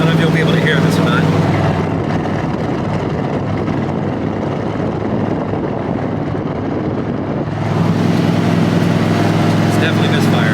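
A hot rod engine idles and runs with an uneven misfire, a rough, broadband rumble that stays loud and continuous, with wind buffeting over the microphone.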